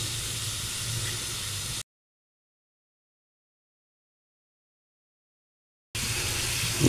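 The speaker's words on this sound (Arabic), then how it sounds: "دي بقى تشويحة الزبدة" Butter sizzles in a pan with a garlic and coriander mix for Luxor-style buttered foul, a steady close hiss that cuts out completely for several seconds before returning.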